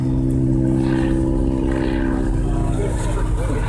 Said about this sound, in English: See how slow it can fly, which is great for an observation airplane.